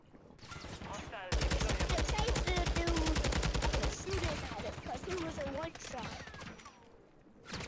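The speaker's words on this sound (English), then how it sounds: "There's somebody shooting at us." Rapid automatic gunfire in Warzone 3 on Rebirth Island, a dense loud burst of shots followed by scattered further bursts and other game sounds.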